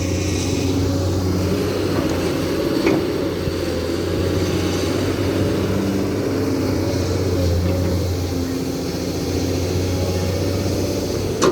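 Large tractor-trailer truck engine heard from inside the cab as a steady, loud diesel drone, accelerating gently over a constant low rumble with no speech.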